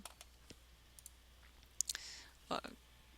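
Computer mouse clicking during graphics editing work, a few sharp close clicks spaced irregularly in an otherwise quiet room.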